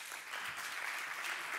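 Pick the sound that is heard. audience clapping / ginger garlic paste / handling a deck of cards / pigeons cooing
audience clapping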